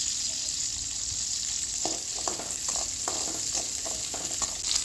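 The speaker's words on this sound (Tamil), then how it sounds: "இப்போ வெங்காயம் நல்லா செவந்து வதங்கிடுச்சு." Onions sauté in a pan for a Tamil white cowpea curry, with steady sizzling frying and a series of scraping stir strokes from a spatula, close and clear with no talk.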